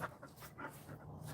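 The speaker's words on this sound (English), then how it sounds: "They're such good dogs, though." Dogs pant rapidly outdoors in a steady rhythm of breathy puffs, with a faint whimper in the mix, heard fairly close and without talk.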